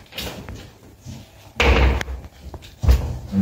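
Doors of an under-staircase display cabinet swing shut in an indoor room, giving a couple of firm, near thuds and slams, with a short word spoken in between.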